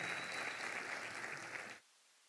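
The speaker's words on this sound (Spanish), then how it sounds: "Dale un fuerte aplauso al Señor en esta noche" A church congregation claps for nearly two seconds in a dense, moderately loud burst of many hands, which stops abruptly and leaves near silence.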